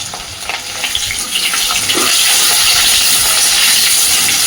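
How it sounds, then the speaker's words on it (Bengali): Potato pieces sizzling in hot oil in a home kitchen pan for a vegetarian Bengali dish, a steady loud crackling hiss with faint stirring scrapes, no voices. "সুন্দর করে আলুগুলোকে এবার লাল লাল করে ভেজে নেব।"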